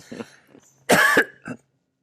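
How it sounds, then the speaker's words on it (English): A man coughs: a soft throaty sound first, then one loud, harsh cough, and a shorter follow-up cough, all close to the mic in an otherwise quiet room. "There I go coughing."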